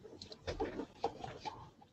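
A voice imitating chicken clucking: soft, quiet, bird-like clucks in an irregular run of bursts, close and faint, without other speech.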